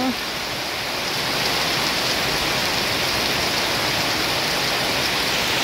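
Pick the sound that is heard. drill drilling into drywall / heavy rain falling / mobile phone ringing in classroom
heavy rain falling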